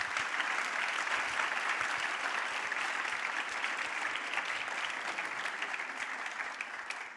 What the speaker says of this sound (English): kindly applaud our speakers